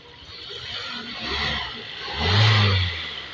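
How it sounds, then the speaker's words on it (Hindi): A Hyundai Elantra GLS 2000 cc four-cylinder petrol engine revs up steadily, swelling to a loud peak near the end before easing off, with no talking over it. "ये 2000 सीसी पेट्रोल इंजन है। साउंड आप इसकी चेक कर लें"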